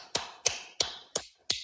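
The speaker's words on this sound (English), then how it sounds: "I don't know if the clapping comes through at all on the mic" Five sharp hand claps land at a steady, moderate pace, each crisp and close with a short decay, with no talking between them.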